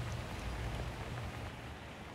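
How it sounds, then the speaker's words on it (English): Steady rain falls outdoors during a strong storm in a flooded Englewood neighborhood, a faint, even hiss over a low constant hum with no voices. "More rain is now falling here."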